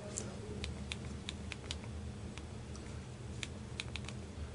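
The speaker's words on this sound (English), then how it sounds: "Let's go ahead and check out the keyboard again. We'll type something real quick." Quick clicks from the slide-out physical keyboard of a Motorola Photon Q smartphone, light close keypresses in uneven bursts over a faint steady hum.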